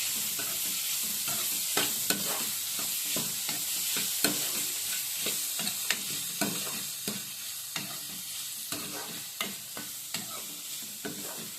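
Onion masala sautéing in a pan, a soft steady sizzle punctuated by regular spoon scrapes and taps roughly every half second, close-up and fairly quiet with no speech.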